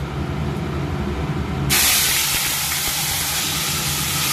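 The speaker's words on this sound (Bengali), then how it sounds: "আমি যে টমেটোটা পেস্ট করে নিয়েছি এটা দিয়ে দিচ্ছি" Tomato paste hits hot oil tempered with whole cumin seeds for a vegetarian ghugni, bursting into a sudden loud, steady sizzle that fills the rest of the moment after a quieter start.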